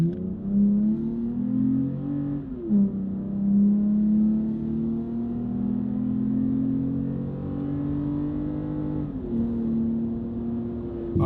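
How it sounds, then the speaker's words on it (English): Loud, close exhaust roar from a Toyota Tacoma fitted with an aftermarket system, revved high and held, the engine note wavering and stepping up through sustained throttle with brief dips. "we just revved that one out pretty high"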